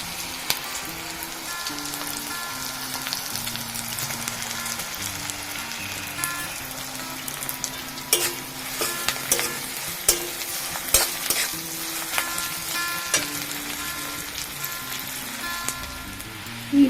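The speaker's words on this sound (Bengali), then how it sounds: "পেঁয়াজটা হালকা ভাজা হয়ে গেছে এর মধ্যে দিয়ে দেবো আদার কুচি" Onion and chopped ginger frying in a pan, a steady close hiss of sizzling oil throughout, with occasional sharper clicks and scrapes from stirring growing more frequent later on, and a faint tonal hum underneath.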